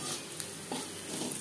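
Onions frying to a reddish brown in a pan for a raw banana peel mash, a steady close sizzle throughout with faint stirring scrapes and no voices.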